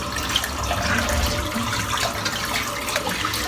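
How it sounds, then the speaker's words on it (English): Shaving water draining out of a bathroom sink, a continuous close gurgling rush of water running for the whole stretch at an even level, with no voices. "I'm just going to empty the sink out"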